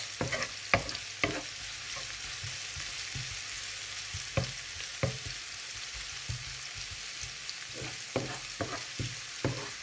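Garlic and onion frying in a pan give a steady, close sizzle, broken by irregular scraping knocks from stirring.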